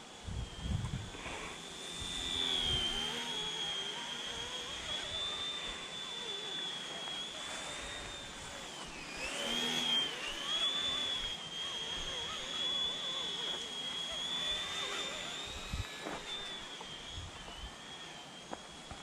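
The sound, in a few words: cheap realistic RC helicopter flying in wind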